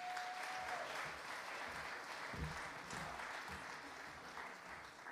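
Steady crowd applause greets a contestant at a São Paulo stage of a French song festival, even and continuous throughout with no voices on top.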